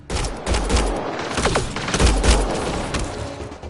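Gunfire breaks out in a rapid volley of several overlapping shots, with sharp reports and deep booms in quick bursts across a few seconds and no talking.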